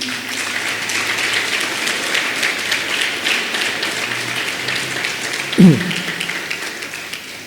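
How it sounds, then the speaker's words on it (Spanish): A church congregation applauds the Lord during a pastor's sermon, a sustained moderate clapping spread evenly across the room, with a brief low thump near the end. "Bríndele fuerte el aplauso al Señor."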